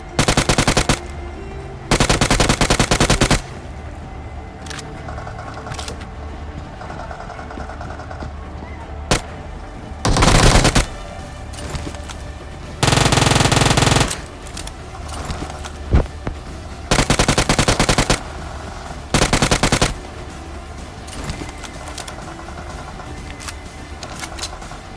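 UZI and UMP gunfire in a video game: loud bursts of rapid automatic fire, about six separate sprays of one to two seconds each, with quieter single shots and game ambience in between.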